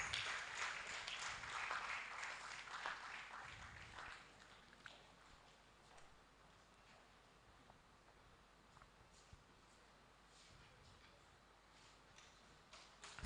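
An audience at a university research awards ceremony claps to welcome an award recipient, the applause loudest at first and then thinning to faint, scattered clapping in a quiet hall.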